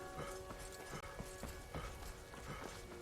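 Horse hooves clip-clopping in the video game Skyrim, a steady rhythmic trot of soft repeated hoof beats heard faintly and alone.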